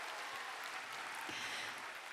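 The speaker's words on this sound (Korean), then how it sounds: "다시 한번 큰 박수 부탁드리겠습니다" Audience applause fills the hall at the opening ceremony of a climate industry international expo, a steady, even clapping wash that stays faint and distant throughout.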